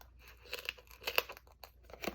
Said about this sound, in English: So I'm just going to cut a strip off of it.